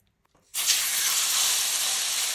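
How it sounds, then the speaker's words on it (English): Beef tri-tip hits a very hot wok with a sudden loud, steady sizzle that starts after a brief quiet moment and holds strong to the end. "So we're going to sear this really hot before turning our heat down in our wok."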